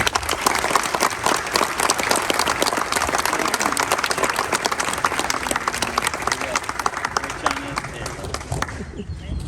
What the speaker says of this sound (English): please give her and the rest of my family a round of applause